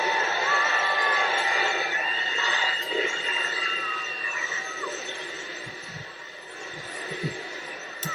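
A large crowd at a gala event celebrating with the Russian president cheers and applauds continuously, a dense roar of voices that slowly eases off.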